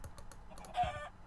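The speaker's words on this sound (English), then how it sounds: "I just found like 5 more chickens." Minecraft chickens give a few soft, quick clucks, faint and brief, over light clicking.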